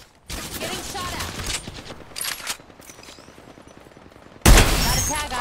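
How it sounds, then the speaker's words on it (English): Rapid video game gunfire in a battle royale endgame, with short automatic bursts at close range and a loud burst at the end, against quieter game sounds. "Getting shot at."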